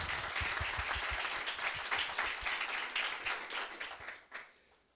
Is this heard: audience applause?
yes